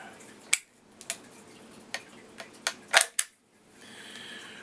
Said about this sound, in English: Just take out your bolt.